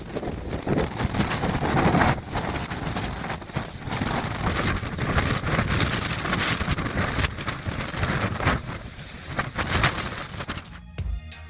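Strong gale at a polar research station, around 136 km/h, roars and buffets continuously and loudly close to the microphone, with gusting rumbles throughout and no voices.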